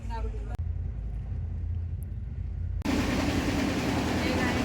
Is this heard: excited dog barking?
no